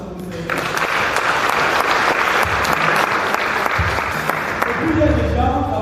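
A church congregation breaks into sustained applause in praise of the Lord, starting abruptly after a brief moment and continuing as a dense, even wash of many clapping hands to the end.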